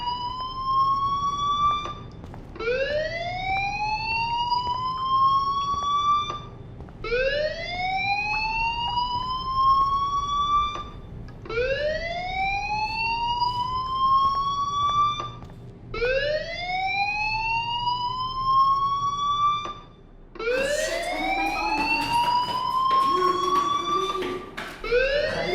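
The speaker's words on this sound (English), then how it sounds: "do you hear that fire alarm?" A fire alarm in the video game Life Is Strange sounds as a loud, rising electronic whoop repeated about every four seconds, steady and close with no talking.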